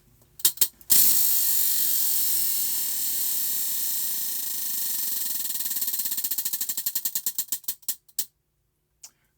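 A clicking prize wheel spun hard. A whirring rattle of fast clicks slows into distinct ticks that spread further apart until it stops with a last couple of clicks.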